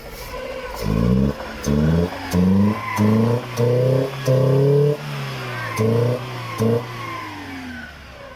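A car with an injector fault, smoking heavily, revved at a workshop in repeated bursts: about eight short throttle blips rising and falling over a steady idle, loud and close, with no talk.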